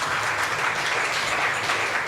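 An audience at a live comedy podcast show applauds in a steady, dense burst of clapping lasting about two seconds, loud and close, with no talking over it.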